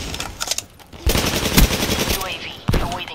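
Rapid automatic gunfire in Black Ops 3: bursts of machine-gun fire in short clusters, loud and close, with a brief lull before a final burst and some faint voice-like sounds mixed in.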